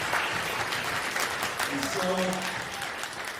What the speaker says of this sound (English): Let's give another round of applause to our leaders up here tonight.